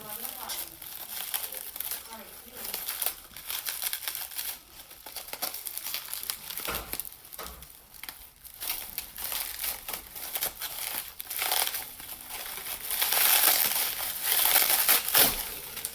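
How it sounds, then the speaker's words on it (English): Packing tape rips and packaging crinkles during an unboxing of Beyond Polish nail products, a long run of loud, close crackling and tearing bursts with brief pauses. "I couldn't get the tape off, so I had to rip it."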